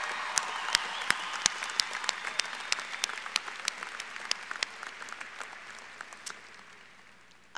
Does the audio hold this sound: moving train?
no